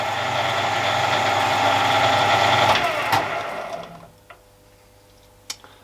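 A Harrison M300 metal lathe runs with a steady mechanical hum and whine, then spins down and goes quiet. A few faint ticks and clicks follow in the near-silence.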